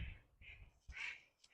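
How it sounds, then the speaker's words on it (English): Birds calling outdoors during a Pilates workout, with a few harsh, crow-like calls repeating in short bursts. The calls sound fairly faint and distant, and no one talks over them. "Oh my goodness, the birds."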